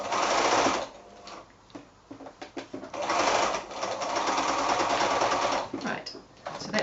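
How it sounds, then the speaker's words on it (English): A sewing machine stitches up a hole in a cloth book, running in loud steady bursts with short pauses between them, and a voice speaks briefly in the gaps. "so that's that little hole stitched up now"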